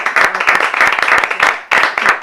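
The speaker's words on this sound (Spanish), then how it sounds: "Os pido para ella un fuerte aplauso" Audience applause for poet Tess Gallagher at a bookshop reading, brisk, close clapping from a small crowd with a brief gap before a fresh burst.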